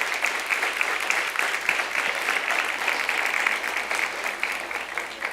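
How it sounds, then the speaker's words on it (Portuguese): A church congregation claps together during a worship service, a dense sustained patter of many hands held at an even level for several seconds with no voices on top. "aplauda ao Senhor em nome de Jesus"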